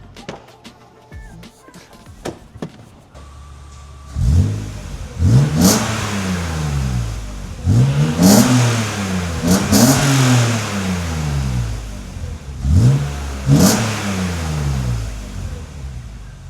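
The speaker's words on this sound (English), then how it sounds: "I'm going to give you guys the first start with this Ireland Engineering exhaust." A BMW E36 M3 engine with an Ireland Engineering aftermarket exhaust cranks and fires up, then revs hard several times in sharp bursts, its deep, raspy exhaust note rising and falling between idles.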